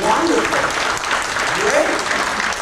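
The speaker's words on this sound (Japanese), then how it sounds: "Give yourself a clap offering." Church congregation applauding during a bilingual worship service, a dense, steady clapping that lasts throughout, with voices talking over it.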